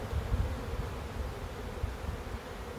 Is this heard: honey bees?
yes